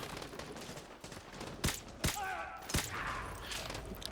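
Gunfire in Call of Duty: Modern Warfare 2 (2009) Remastered, Contingency mission: three sharp shots ring out at irregular intervals over a steady bed of battle noise, with a faint voice briefly underneath.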